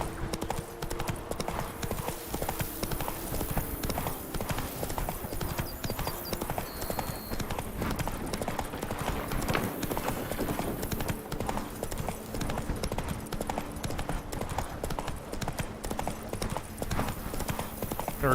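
Hooves of Roach, the horse in The Witcher 3, clip-clop in a steady trot throughout, mid-distance, over in-game ambience and faint background sounds with no talk.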